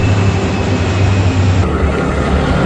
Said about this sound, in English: that really looks like a plane with the plane sound